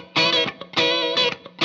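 Electric guitar through a booster-preamp pedal's chorus-ensemble mode, bright shimmering sustained chords with wavering vibrato, struck in three loud swells with short gaps between, no voice.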